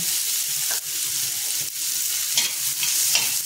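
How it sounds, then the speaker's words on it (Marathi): Curry leaves and onion frying in a pan for a Konkani-style tadka, a steady loud sizzle with brief scraping stirs breaking through at regular intervals, with no voices. "त्यात 4 कढीपत्त्याची पानं आणि कांदा घालणार आहे।"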